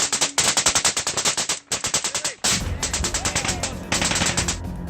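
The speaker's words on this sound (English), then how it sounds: "There was a lot of gunfire." Machine guns fire in combat, long rapid bursts of sharp cracks at a fast even rhythm, loud and close, broken by brief pauses before more sustained firing.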